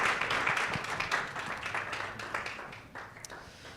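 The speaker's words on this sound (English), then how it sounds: "let's give them a good round of applause" A room of attendees at a blockchain thought-leadership event claps after a session, a moderate, thinning round of applause that fades gradually over a few seconds.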